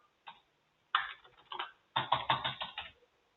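Short bursts of typing on a computer keyboard while an order number is entered for a purchase order: a single tap, then two quick clusters of crisp keystrokes, close and fairly quiet, with no voice.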